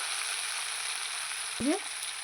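Spices with turmeric frying for a catla fish curry give off a steady, soft sizzle, and a short high chirp cuts in near the end.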